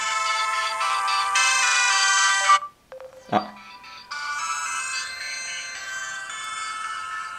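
Tinny electronic melody from the rear loudspeaker of an LG Nexus 4 phone, briefly broken by a tap and a short exclaimed voice before the tune resumes.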